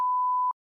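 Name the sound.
beep from a podcast soundboard button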